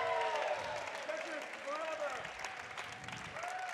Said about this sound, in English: Give a round of applause for Chris Tang.